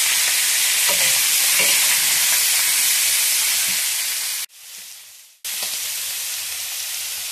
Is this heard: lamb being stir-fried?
yes